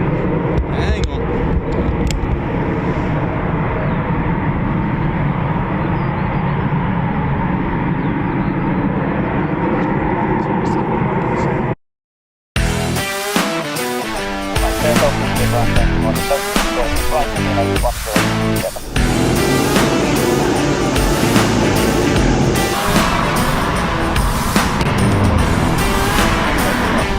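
A Eurofighter Typhoon FGR4 jet takes off at RAF Coningsby, its loud engine roar rising from a steady distant rumble to a broad, powerful blast after a brief cut, heard alone with no voices.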